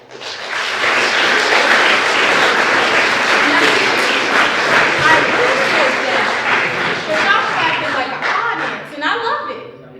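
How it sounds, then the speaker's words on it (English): A room of high school sophomores claps together at a school morning meeting, with dense, loud, sustained clapping mixed with voices and some laughter before it fades. "Sophomores, can I hear you clap?"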